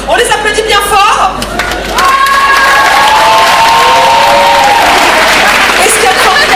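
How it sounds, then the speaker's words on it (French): Audience applauding improv performers at a 2014 show, loud dense clapping with cheers and whoops from a crowd, sustained throughout while voices call out over it. "on les applaudit bien fort"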